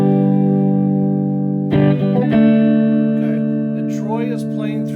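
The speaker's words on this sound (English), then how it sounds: "give us some clean tones again. Just a couple chords here" Sustained clean electric guitar chords ring out warmly through a Trainer YCV40 valve amp, changing twice, then a voice speaks over the fading strum.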